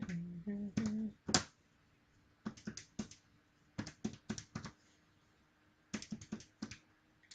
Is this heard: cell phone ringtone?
no